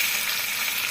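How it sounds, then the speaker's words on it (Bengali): Crushed garlic fries in hot oil while being stirred for a goat liver stir-fry, giving a steady, close, even hiss of sizzling with no breaks and no voices. "আর দেব রসুন থেতোটা দিয়ে একটু নাড়াচাড়া করবো"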